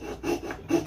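A hand saw cuts straight across wood for a small book and phone stand, giving two rasping strokes in quick rhythm, close and fairly quiet with no talking.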